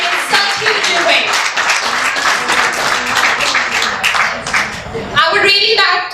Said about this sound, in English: Let us give a big round of applause for every participant